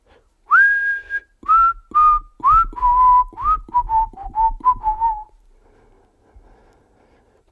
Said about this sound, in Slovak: Niekto si tam píska a vyspevuje.